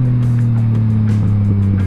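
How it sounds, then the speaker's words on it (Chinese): A Yamaha MT-09 three-cylinder motorcycle with a full Akrapovič exhaust idles with a strong, steady low drone of engine harmonics, close and loud, with a slight blip and waver near the end. "这个退档补油真的超爽的"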